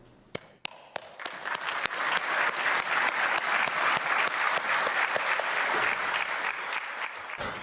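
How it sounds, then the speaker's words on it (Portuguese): Applause from a crowd breaks out right after a minute of silence, starting with a few scattered claps and quickly swelling into sustained, dense clapping that carries on steadily to the end. "Vai seguido de aplausos"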